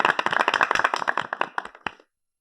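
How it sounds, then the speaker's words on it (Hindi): Loud applause from an audience of children and adults at a Hindi children's program, dense clapping for about two seconds before stopping abruptly. "जोरदार तालियां सभी भारतीयों के लिए।"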